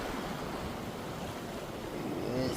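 Rough sea waves surge around a small fishing boat, a continuous rushing wash mixed with wind buffeting the microphone.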